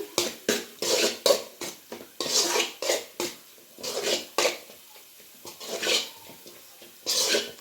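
Cabbage manchurian batter with chili powder is mixed in a bowl by hand, producing close, rhythmic squelching and slapping pulses with brief pauses between strokes, and no one speaking.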